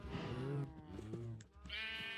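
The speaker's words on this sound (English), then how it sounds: "Now that we have sheep, we got plenty of wool." Sheep in the farming game Lunaria bleat repeatedly in quick, wavering calls, several overlapping bleats close and fairly loud with no talk.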